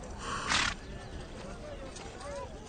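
A horse in an action film scene, a brief loud snort or whinny near the start followed by quieter rustling and faint animal sounds.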